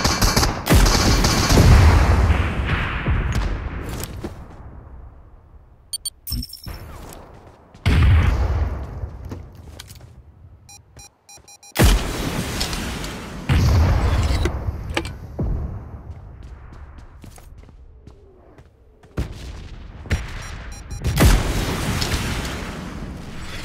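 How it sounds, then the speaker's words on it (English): Heavy gunfire in a shooter game, with long machine-gun bursts, single shots and booming explosions arriving in loud waves and separated by quieter stretches, no voices. "Firing sounds detected."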